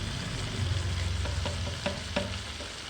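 Green chillies, tomato and vegetables hit hot tempered oil in a pan, giving a steady close sizzle with a few sharp clicks from stirring, and no voices.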